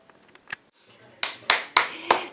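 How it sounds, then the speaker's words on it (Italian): A woman claps her hands alone, four sharp, evenly spaced claps ringing out loud and close after a few soft taps and rustles, celebrating progress on a dress she is sewing. "mi applaudo da sola per come sta venendo l'abito"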